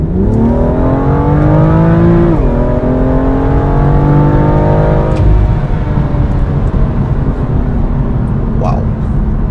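A 2018 BMW M2 Coupé accelerating hard, its loud, close engine note rising through the revs, dipping at gear changes and climbing again, filling the whole stretch.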